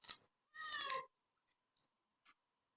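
A cat gives one clear, close meow lasting about half a second, preceded by a short sound and followed by faint small clicks in an otherwise quiet room.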